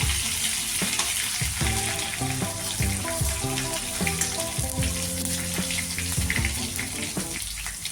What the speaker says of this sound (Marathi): जिरे आणि मोहरी नंतर टाकल्यानंतर आपण त्यामध्ये अद्रक लसन पेस्ट टाकून घेऊ थोडासा याचा कच्चेपणा जाईपर्यंत त्याला परतून घेऊ